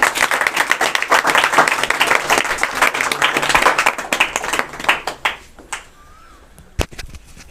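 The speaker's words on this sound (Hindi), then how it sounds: "इन्हें पुरस्कृत किया जाता है जोरदार तालियों से इनका स्वागत कीजिएगा" Loud applause from an audience welcoming an award winner at a motivational talk, dense clapping that holds strong for several seconds, then thins into a few scattered claps and fades out.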